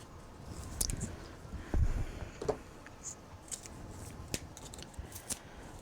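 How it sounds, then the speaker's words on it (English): Tape peeled from one side of scored cardstock while building a Christmas display box, a quiet, steady crackly rasp with a few sharper ripping bursts, close up and with no talking. "Peel the tape from one side."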